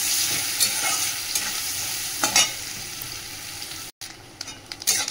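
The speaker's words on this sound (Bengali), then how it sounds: "তেলটা তো গরম হয়ে গেছে, নারকেলটার মধ্যে একটুখানি হলুদ দিয়ে দিয়েছি, দিয়ে লাল করে একটু ভেজে নিই নারকেলটা" Grated coconut mixed with a little turmeric frying in hot oil, giving a steady close sizzle with occasional stirring scrapes, one brief dropout near the end.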